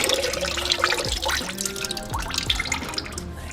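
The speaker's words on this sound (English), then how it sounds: "There's still going to be coolant coming out." Coolant draining out of a Subaru WRX VB radiator, a close continuous trickle with splashing drips falling steadily into liquid.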